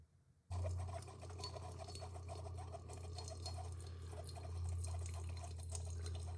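A single-serve coffee maker brews coffee into a cup after a brief quiet start, with a steady loud pumping hum and gurgling, hissing water that carries on to the end.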